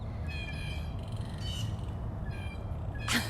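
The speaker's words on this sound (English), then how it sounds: "the birds are like super loud this morning" Birds calling loudly from a tree above a big cat enclosure at Big Cat Rescue in the morning, repeated chirping and squawking phrases layered over steady outdoor background noise, with one sharper, louder call near the end.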